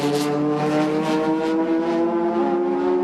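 A Honda NSX race car at the Suzuka Super GT 1000 km race gives a loud, close, sustained engine drone with steady high harmonics, slightly shifting in pitch as it holds speed, with no voices.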